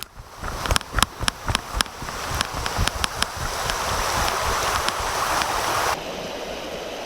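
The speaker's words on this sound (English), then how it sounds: "let's go check out the waterfall." A waterfall's steady rushing water fills the clip, with a series of sharp clicks and taps over it early on, the flow continuing loud and constant.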